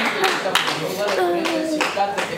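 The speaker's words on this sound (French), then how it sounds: "Est-ce qu'on peut les applaudir quand même?" Spectators at a school quiz competition between two collèges clap for a team, a ragged burst of hand claps with a few sharper strikes, while voices talk over it.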